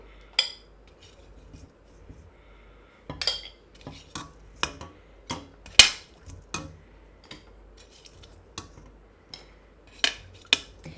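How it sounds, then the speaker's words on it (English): Metal spoon clinking against a pot as tea eggs are lifted out of their dark tea brine for a Chinese breakfast, a series of sharp, close clinks and taps spaced irregularly over a quiet background. "we're going to remove the eggs from the brine and we're going to serve it"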